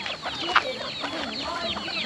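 Chickens cluck in a brief, busy chorus of short, scratchy calls, fairly close and lively against a noisy outdoor background.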